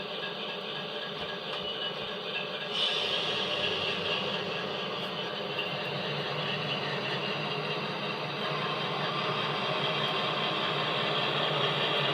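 A model diesel locomotive in heavy train mode hums and drones steadily, with a sharper mechanical whine cutting in early and running on at an even level.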